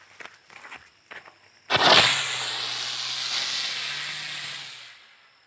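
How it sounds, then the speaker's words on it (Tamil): A lit Sivakasi helicopter firecracker flares with a sharp crack, then spins with a loud, steady hiss and whir for about three seconds before dying away, after some faint handling noises. "அதுக்கடுத்து நம்ம வந்து டெஸ்ட் பண்ணக்கூடியது ஹெலிகாப்டர்."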